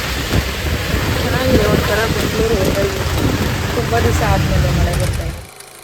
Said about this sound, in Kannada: ಬೆಂಗಳೂರು ತುಂಬ ದಿವಸ ಆದಮೇಲೆ ಮಳೆ ಬರ್ತಾ ಇದೆ